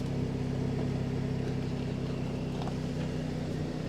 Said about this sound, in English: Once again, listen to the exhaust. That is so cool.